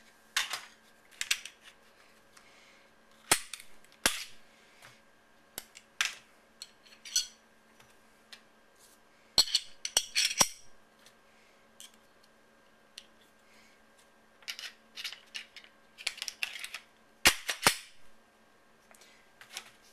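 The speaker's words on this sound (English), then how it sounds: "You basically just swap the barrel and swap the mags." Sharp metallic clicks and clacks of a Glock G22 pistol being handled while swapping in a 9mm conversion barrel and magazines, scattered irregular snaps close by in a quiet room, with no talking.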